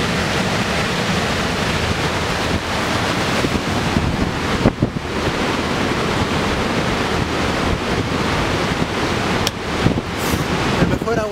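Pure mineral water falling from the mountains near El Chaltén in Patagonia, Argentina, a steady broad rushing roar of flowing water with wind buffeting the microphone, continuous and loud throughout with no speech.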